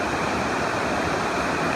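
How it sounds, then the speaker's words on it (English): Perry Creek, a mountain creek, rushes steadily with a dense, loud, continuous roar of flowing water, close by and uninterrupted. "This is the sound of Perry Creek."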